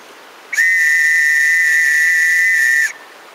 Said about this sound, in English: that's the World War I trench whistle